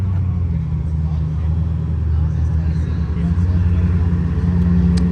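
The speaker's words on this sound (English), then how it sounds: "I heard something else rolling in, maybe multiple cars." Supercars roll in at a car show, a steady low engine drone and rumble from several vehicles moving slowly nearby, continuous and fairly loud for the whole stretch.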